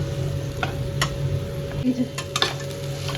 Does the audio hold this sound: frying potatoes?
yes